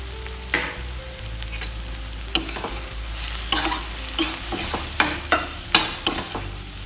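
Boal fish curry masala fries in a pan as sugar and chili powder are added. A steady sizzle runs under repeated sharp spatula scrapes and knocks against the pan.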